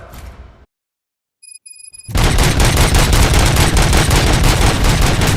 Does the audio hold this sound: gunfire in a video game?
yes